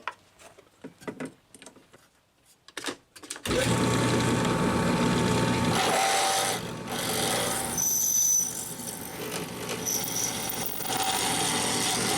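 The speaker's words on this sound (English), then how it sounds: "I'll have to go a size up on the drill bit." After a few quiet taps and clicks, a power drill starts up and runs steadily with a buzzing, grinding whine for several seconds, drilling a hole on a 1994 Saab 9000.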